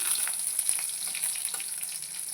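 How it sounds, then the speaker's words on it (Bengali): Crushed garlic cloves fry in hot oil with chilli and five-spice seeds, giving a steady, bright sizzle with small crackles throughout and no voices. "রসুনটা একটু ভেজে নেবো"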